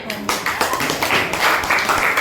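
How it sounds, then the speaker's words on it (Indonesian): Students in a classroom clap together for their classmates during a school coaching session, a short burst of scattered handclaps mixed with voices talking over it. "Oke, tepuk tangan teman-temannya."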